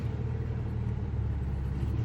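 A Dodge Charger R/T with a 5.7-liter engine idles steadily, a continuous low, rumbling drone close by with no voices.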